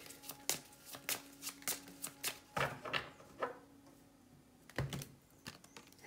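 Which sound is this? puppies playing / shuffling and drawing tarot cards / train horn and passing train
shuffling and drawing tarot cards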